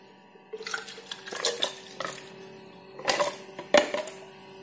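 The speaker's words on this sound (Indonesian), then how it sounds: "Kemudian kita tuang ke wadah sini." Chopped carrots and a little water are poured into the container of a Deerma portable blender, giving a few clattering knocks and splashy rattles against plastic, close up with no talking.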